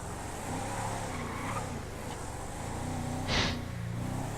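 A car engine hums steadily nearby, with a brief whooshing swell partway through as a vehicle goes by.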